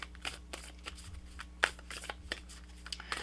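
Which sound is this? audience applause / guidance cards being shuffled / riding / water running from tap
guidance cards being shuffled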